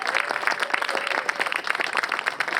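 Audience clapping and cheering at a ribbon cutting ceremony, a dense, steady patter of many hands that continues without a break.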